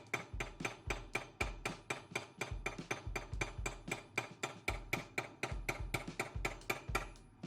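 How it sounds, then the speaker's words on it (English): Steady metallic hammer blows ring out on a copper bowl being sunk and planished, many sharp even overlapping strikes in a quick regular rhythm, close and clear with no voices. "Hopefully you can see those overlapping hammer blows to the copper"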